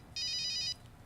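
A cellphone rings indoors with a bright, repeating electronic tone, a single burst of about half a second over a quiet room.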